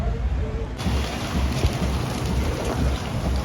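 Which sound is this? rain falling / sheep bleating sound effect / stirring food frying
rain falling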